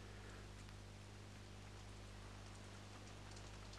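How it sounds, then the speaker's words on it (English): Steady rain falls in a farming video game, an even, soft hiss of drops that runs unbroken and fairly faint, with a low hum underneath and no voices. "The fact that it's raining is the issue."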